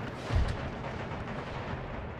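Cannon artillery fire in the strategy game Empire: Total War, a single booming shot early on followed by a rumbling, distant battlefield wash that fades slowly.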